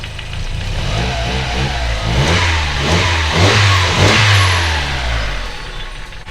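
Turbocharged Mazda Protege engine revving up and down in a series of throttle blips over a rough idle, loud and close, with no talk over it.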